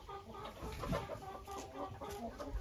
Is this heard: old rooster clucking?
yes